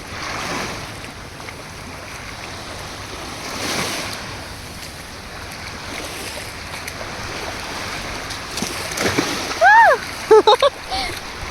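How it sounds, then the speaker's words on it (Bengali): Sea waves wash onto the sandy shore at Kite Beach, Dubai, a steady close surf rush around the feet with wind on the microphone and brief splashes near the end, while people talk over it. "আমি দেখাচ্ছি যে জলে যে স্রোত, এই যে আসতেছে আমার পায়ে।"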